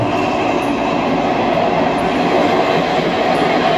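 A train pulls into a station platform on the way to Ayutthaya, Thailand, a loud, steady rumble of rolling rail cars and wheels close by, with no talking over it.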